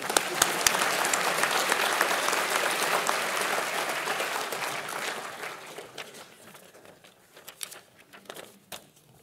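Audience applause at an award ceremony during the EAGE Annual opening in Copenhagen, a dense sustained clapping from a large hall crowd that gradually thins into scattered claps and fades out.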